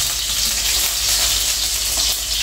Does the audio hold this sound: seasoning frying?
yes